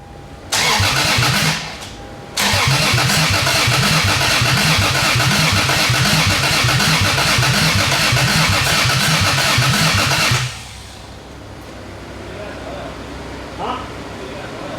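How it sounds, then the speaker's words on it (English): Toyota Supra engine cranking and catching on starting fluid and brake cleaner, loud and close, with a short break before it fires again and runs roughly for several seconds, then cuts out to quiet background. "we're gonna see if she starts"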